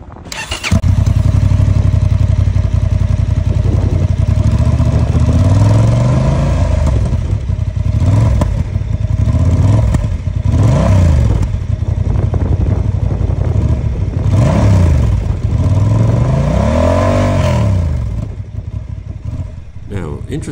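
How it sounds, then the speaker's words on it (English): A Honda Hornet 750 motorcycle revs repeatedly through its stock exhaust, which has one small and one large diameter outlet. The engine is loud and close, rising and falling in several sharp revs over a steady idle. "Honda have tweaked the exhaust and given it a small and a large diameter pipe, almost like a tweeter and a woofer, so you get both decent bass and treble."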